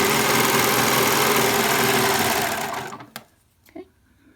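A sewing machine runs steadily, stitching a ribbon skirt, with a dense whirring hum that winds down and stops, followed by a couple of small clicks and handling sounds.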